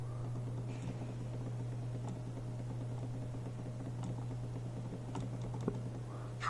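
An iMice X7 gaming mouse, the silent version, gives faint scattered clicks from its buttons and scroll wheel, small sharp ticks over a low steady hum.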